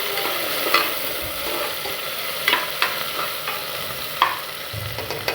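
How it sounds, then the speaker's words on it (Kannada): Onion and tomato frying in a pan for a simple pulao, a steady close hiss of sizzling with occasional soft clinks and scrapes of stirring, no talking. "5 ನಿಮಿಷ ಫ್ರೈ ಆಗೋದಕ್ಕೆ ಬಿಡಿ."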